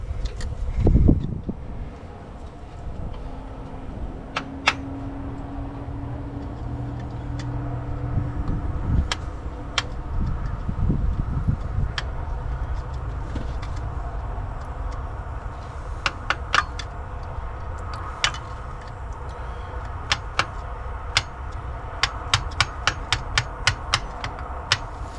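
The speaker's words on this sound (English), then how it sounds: "get a light tap of the hammer on it" Sharp metallic taps from a light hammer ring out sporadically over a steady low rumble while freeing a brake part on a 1950 Dodge Meadowbrook, a few early then clustering in quick bursts later, fairly close.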